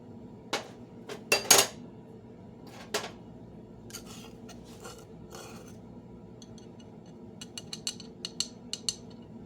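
Ingredients being mixed in a bowl with utensils, a few sharp metallic clinks and scrapes early on, then quieter rubbing and a run of light taps toward the end.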